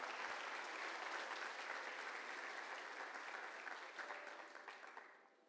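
A church congregation applauds in a dense, steady wash of clapping that holds for several seconds, then tapers off toward the end.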